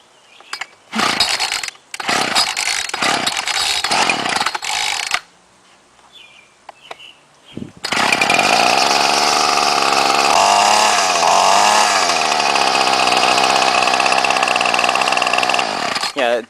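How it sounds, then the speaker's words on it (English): A gas string trimmer with a 32-to-1 fuel mix is started with several sharp pull-cord bursts, pauses, then catches and runs loud and close with a revving drone. "So put it on choke, prime it a few times, get the gas."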